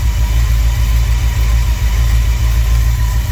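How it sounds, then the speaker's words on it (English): Car engine idling steadily with a Holley 12-803 fuel pressure regulator and blue 110 GPH fuel pump fitted, a loud, even low rumble with a regular throb that runs without pause. "Engine running, of course."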